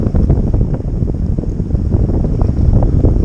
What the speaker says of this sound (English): But I'm just letting the wind take me at this point.